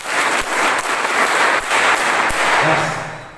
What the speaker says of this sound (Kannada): ರೈತರಿಗೆ ಚಪ್ಪಾಳೆ ಅಂದ್ರೆ ಗಟ್ಟಿ ಇರಬೇಕು.